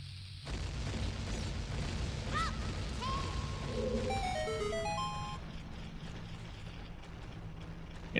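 In Zelda: Ocarina of Time, a bomb flower detonates with a muffled boom under steady rumbling ambience as a staircase collapses, followed by a rising chime jingle of bright tones.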